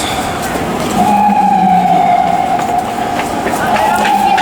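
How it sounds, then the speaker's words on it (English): A steady ambulance siren wails at a distance in Midtown, holding a high tone over constant background street traffic noise with some indistinct voices. "There's another ambulance."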